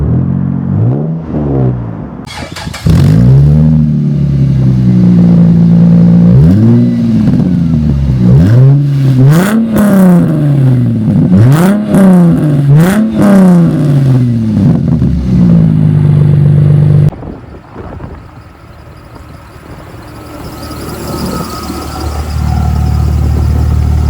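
A 1999 Plymouth Prowler engine revs repeatedly from idle, each blip rising and falling in a rhythmic series of loud, close rumbles before settling back to a low idle.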